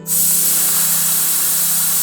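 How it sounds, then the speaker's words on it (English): Compressed air hisses steadily from the small nozzle on a BMW F30 air suspension tank as it is emptied, a loud close continuous spray starting abruptly and holding for about two seconds. "take that little nozzle and just spray all the air out"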